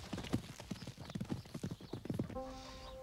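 Hooves clip-clop steadily at a trot, a quick run of distinct near strikes with no talk, before a brief whinny-like tone at the end.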